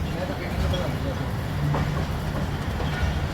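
Allama Iqbal Express train departing Narowal Junction, a steady continuous rumble of rolling railway cars with faint clattering, sustained at even loudness throughout, with background voices mixed in.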